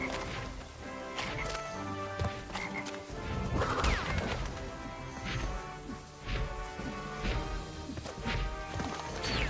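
Frog croaks in Crash Bandicoot 3 repeat through a busy mix of game music, crashes and whacks, steady and fairly loud without a break.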